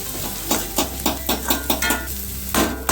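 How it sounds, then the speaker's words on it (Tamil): Dried fish (karuvadu) and onions being stirred in a hot frying pan, a spatula scraping in quick rhythmic strokes about twice a second over a steady close sizzle. "வெங்காயம் கருவாடு நல்லா மிக்ஸ் ஆகிற மாதிரி நல்லா ஃப்ளேவர்ஸ் நல்லா இறங்குற மாதிரி நல்லா கிண்டிக்கிறோம்"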